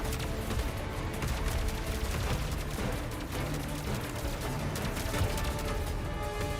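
Dense, continuous gunfire in a video game, a steady loud stream of overlapping shots and impacts with no clear gaps, layered over busy game sound with no speech.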